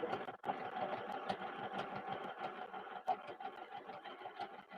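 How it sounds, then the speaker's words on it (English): A sewing machine runs quietly in the background of a home crafting session, a fast, even mechanical whir with small ticks and knocks, fairly faint and steady throughout. "If you could hear the sewing machine."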